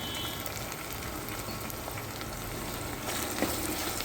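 Ground garlic, coconut and ginger paste hits a hot pan with tomatoes for a matki usal, giving a loud, steady close-up frying sizzle that briefly intensifies toward the end.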